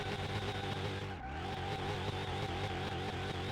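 A very powerful 1200 HP sports car drifts in the game Car Mechanic Simulator, its engine droning steadily and loudly with a brief dip as the tires squeal through the slide, with no voices.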